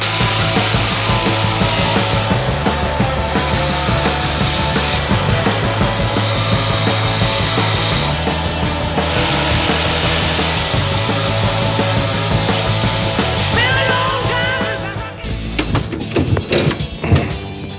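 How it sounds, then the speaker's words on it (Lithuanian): An angle grinder cutting refrigerator pipes to remove the compressor makes a loud, continuous grinding and cutting noise, nearly unbroken, then choppier with rattles near the end. "Imsime kampinį šlifuoklį, nupjausime vamzdelius, kad išimti kompresorių."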